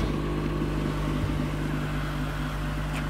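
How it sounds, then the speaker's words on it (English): Exhaust of a 2020 Toyota Camry TRD idling, a steady low droning rumble with a constant hum, close and unbroken for a few seconds. "You hear more of the exhaust."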